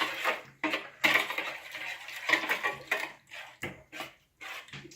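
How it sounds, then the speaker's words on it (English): Slime being stirred after activator is added: wet, squelchy, clicky bursts in several separate strokes with short pauses between, close and moderately quiet. "Start stirring."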